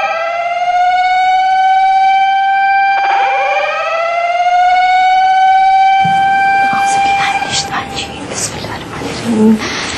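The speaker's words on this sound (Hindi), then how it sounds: "सायरन हो रहा है" A loud siren wails steadily, its pitch sliding and rising partway through, then clattering noise and voices join in toward the end.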